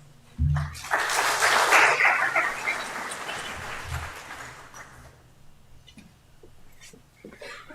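Audience applause breaks out at a high school senior community awards ceremony, a burst of many hands clapping that swells loud in the hall for several seconds, then thins and fades toward scattered claps near the end.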